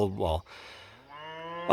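Cattle on a farm, including older red cows, give a drawn-out low moo in the middle, with a shorter louder bellow at the start and another beginning at the end, fairly close and with no talking.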